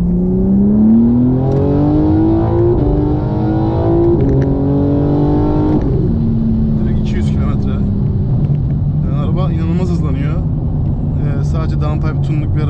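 A BMW M4 G82 accelerating hard, its engine revving through rising gear pulls with a shift near the middle, loud and close from inside the car, while a person talks over the later part.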